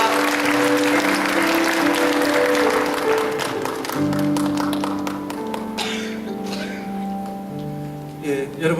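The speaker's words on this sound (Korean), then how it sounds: "들어가실 때 뜨겁게 한번 환영의 박수 축복의 박수 보내주시기 바랍니다" Congregation applause of welcome and blessing at a Korean church service, a steady patter of clapping over sustained organ or keyboard tones that continue beneath it, with the clapping thinning out toward the end.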